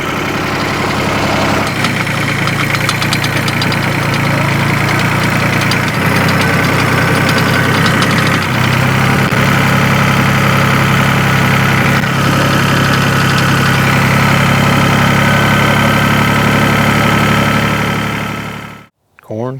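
Antique tractor engine idling steadily during corn planting, a loud continuous low rumble with a slight knock that holds for the whole stretch before cutting off abruptly at the end.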